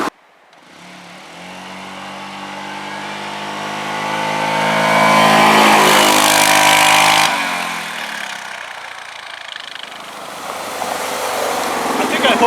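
A stock 2009 Yamaha Rhino 700 side-by-side with a worn belt and clutch accelerates on a run; the close engine drone climbs steadily in pitch to a loud peak, then drops off abruptly and idles down.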